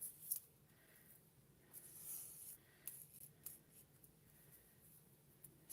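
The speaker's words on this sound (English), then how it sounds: "run our scissors along it to get rid of" Scissor blades run along a length of sapphire thread to smooth out cardboard crinkles, giving faint, quiet scraping strokes at close range with a few brief louder rubs, no talking.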